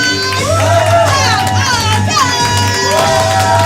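A lively crowd hoots, whoops and cheers loudly and continuously, voices rising and overlapping.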